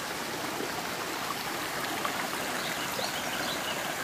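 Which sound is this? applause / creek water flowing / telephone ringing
creek water flowing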